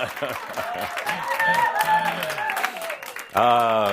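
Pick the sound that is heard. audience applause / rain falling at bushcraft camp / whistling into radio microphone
audience applause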